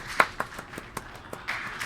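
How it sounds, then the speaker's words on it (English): A few sparse, soft hand claps, a quiet golf clap by a viewer during a SpaceX Inmarsat-6 F2 rocket launch stream, scattered irregular taps over a low background with no talk. "Golf clap"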